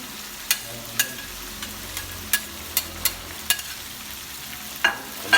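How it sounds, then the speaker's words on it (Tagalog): Shrimp, carrots, celery stalks and beans are stirred in a frying pan, a low sizzle punctuated by about a dozen crisp spatula clacks against the pan at an uneven pace, with no talking. "Haluin lang natin."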